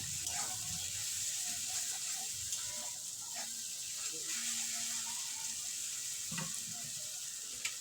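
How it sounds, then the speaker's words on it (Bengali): Chopped tomatoes with salt frying in a pan, giving a steady close sizzle throughout with occasional soft scrapes and knocks of stirring, and no talking. "লবণ কিছুক্ষণ নেড়ে নেব যাতে টমেটোটা একটু সফট হয়ে যায়"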